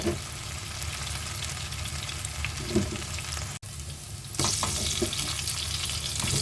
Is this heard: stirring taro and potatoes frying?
yes